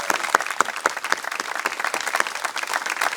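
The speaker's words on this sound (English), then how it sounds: "Can we give Libby a round of applause for her wonderful remarks" An audience at a school's closing exercises claps for a speaker. Individual sharp claps stand out in a brisk, uneven rhythm at first, then merge into steady, moderately loud applause.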